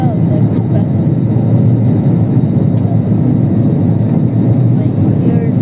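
Inside an airplane taking off at full throttle with flaps down, a loud, steady cabin roar fills the whole stretch, with voices over it.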